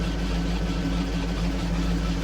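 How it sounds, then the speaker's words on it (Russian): A GAZ-66 truck engine idles steadily nearby, a low, even diesel rumble with a constant throb and no revving, running alone throughout. "Прошу прощения за звук шишиги на заднем плане"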